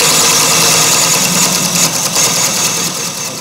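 A carbide tool cuts into wood spinning on a lathe while a piggy bank is turned, giving a steady, loud, close scraping roar with a droning motor underneath and no talk.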